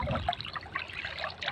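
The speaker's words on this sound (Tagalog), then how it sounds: "Kami sa sapa." Creek water trickles and gurgles close by in a short, continuous, fairly soft burble with no voices.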